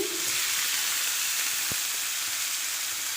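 Onions, dried red chillies and cumin sizzle in hot oil, a steady loud frying hiss with a brief clink partway through and no voices.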